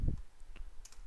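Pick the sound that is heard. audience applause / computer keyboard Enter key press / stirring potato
computer keyboard Enter key press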